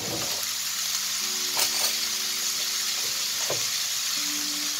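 Minced meat fries in a pan after the heat is turned down, giving a steady close sizzle with a faint low hum underneath and a couple of brief scraping stirs.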